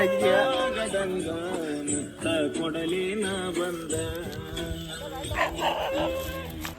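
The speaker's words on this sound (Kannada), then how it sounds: "ನಾಯಿ ಒಂದು" A dog barks several times close by while people talk over it.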